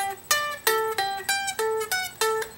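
Guitar picks a repeating single-note riff, about seven bright plucked notes in an even rhythm, each ringing briefly, close and clear with no talking.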